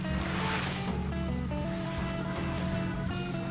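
Water rushing and sloshing along the hull of a 400-foot yacht cruising in MS Yacht Simulator, a steady continuous wash of surf-like noise with a low engine-like hum and tonal game sounds underneath, no talking.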